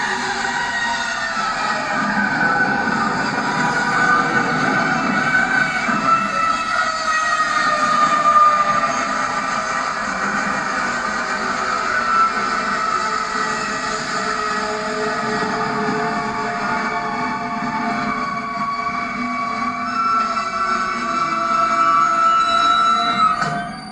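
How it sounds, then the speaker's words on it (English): A train in a toy theatre staging of the game Mother (Earthbound Beginnings) rumbles steadily along the rails, with wheel squeal ringing over the clatter as it slows toward a stop, continuous and fairly loud with no voices. "The train's stopping!"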